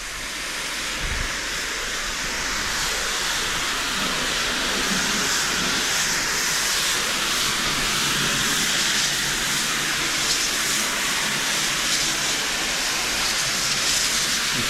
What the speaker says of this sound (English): I've just turned the pressure back up and I'm going to get this rinsed off